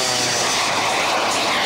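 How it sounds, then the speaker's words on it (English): An aerobatic airplane flies at the 2004 Quad City Airshow, its engine a steady, fairly loud whining drone for a short stretch with no talk. "This is the most difficult airplane he has ever flown, according to Jimmy Franklin."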